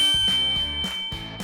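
A doorbell sound effect plays a loud, clear ding-dong chime, heard twice in quick succession with bright ringing tones.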